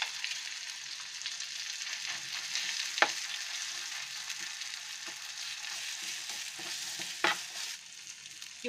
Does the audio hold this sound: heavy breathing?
no